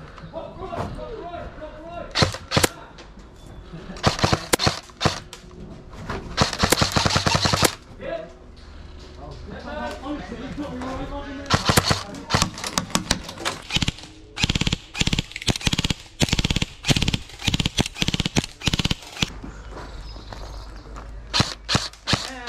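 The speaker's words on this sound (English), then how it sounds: "I'm just testing the paintball gun." Paintball gun test-fired outdoors during a paintball game, a rapid run of sharp close pops in bursts and short volleys, some single shots, with people talking and shouting in between.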